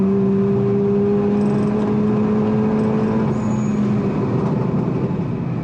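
Renault Mégane IV RS Trophy-R, a front-wheel-drive hot hatch with stage 3 tuning, making a race-mode launch start: a loud, steady engine drone with rising harmonic tones as it pulls hard, continuous and close throughout.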